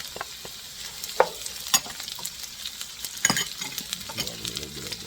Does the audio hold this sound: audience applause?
no